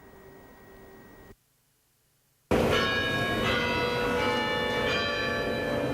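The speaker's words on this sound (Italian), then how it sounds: "Rintocchi che segnano il risveglio di Vicenza" Church bells tolling in the deserted centre of Vicenza, Italy, ringing out loud and resonant after a brief silent gap, their rich sustained tones filling the rest of the clip.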